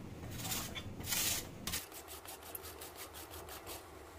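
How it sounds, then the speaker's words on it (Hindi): Raw peeled potatoes rubbed against a grater over a bowl of water, giving a steady rasping scrape in repeated strokes, close and moderately loud with no talk. "आलूओं को ग्रेट कर लेंगे।"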